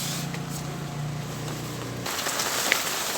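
Heavy rain pouring down outside a van during repair work on a rear door lock, a steady loud hiss of drops on surfaces that continues throughout, with a faint low hum fading out partway.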